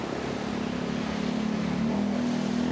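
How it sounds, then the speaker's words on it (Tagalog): A motorcycle moving through a flooded Metro Manila street during monsoon rain, giving a steady, close engine drone with a watery hiss and no voices. "Tignan niya yung motor."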